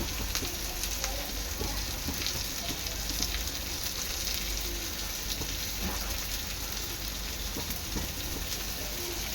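Fish roe sizzling in hot oil in a pan with crushed garlic, curry leaves and a little coriander, giving a steady, dense crackle and spatter throughout with no talking.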